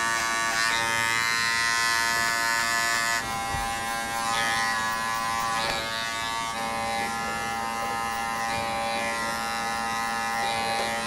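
An electric hair trimmer buzzes steadily in a barbershop, working short hair down to bare skin. The hum stays close and continuous, with slight shifts in pitch and a few brief changes as it moves across the head.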